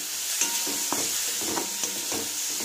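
A semolina mixture with its water cooked off is stirred in a hot pan, quietly sizzling under a run of soft scrapes and taps from the spoon against the pan.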